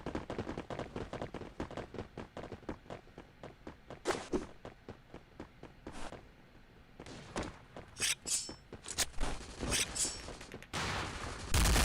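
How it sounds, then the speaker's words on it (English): Rapid bursts of gunfire in the Forward Assault shooter during a tournament final, many sharp shots in quick succession with brief pauses and a few louder close volleys near the end. "Shots already being fired towards mid."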